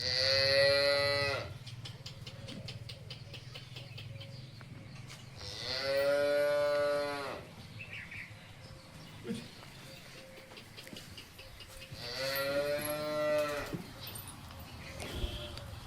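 A Holstein Friesian cow offered for sale on a farm gives three long, loud, drawn-out moos spaced several seconds apart, with quieter voices and farmyard noise in the gaps.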